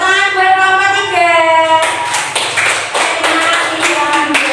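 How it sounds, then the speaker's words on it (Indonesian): Classmates clap for a student group in a school coaching session, a burst of close, dense hand claps starting mid-clip over a sustained sung or spoken voice tone, fairly loud throughout. "Tepuk tangan buat kelompok 3."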